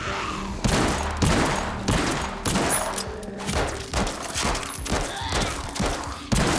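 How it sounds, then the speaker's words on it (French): Assault rifle gunfire in the VR zombie shooter Arizona Sunshine comes as a steady run of loud, evenly spaced shots, roughly one every half second, filling the whole stretch. "Ça, c'est fusil d'assaut"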